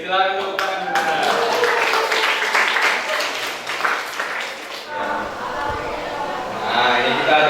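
A classroom of students claps after a physics game ends, a fairly loud, steady patter of applause for several seconds that dips briefly before rising again.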